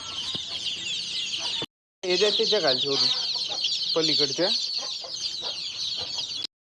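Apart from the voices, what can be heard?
village chicks and chickens clucking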